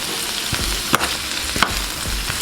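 A piece of Scotch bonnet pepper sautés in a pan for brown stewed fish, giving a steady close sizzle with a couple of sharp spoon clicks against the pan.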